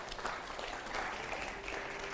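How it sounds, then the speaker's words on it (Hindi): Brief, fairly faint applause from a studio quiz show audience, a steady patter of clapping. "अगला सवाल के लिए जोरदार तालियां हो जरा।"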